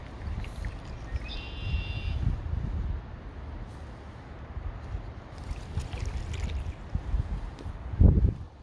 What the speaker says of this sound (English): The sound of the paddle in the water.